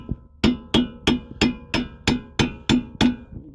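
Someone hammers a CV axle onto a 2014 Jetta with nine evenly spaced, sharp metallic blows, each close, ringing briefly and decaying before the next strike.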